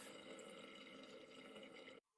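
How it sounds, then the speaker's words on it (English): Scripted bathroom sink water draining in a video game, a steady soft gurgling flow of water that runs continuously and then cuts off abruptly to silence. "you can hear the water drain back out"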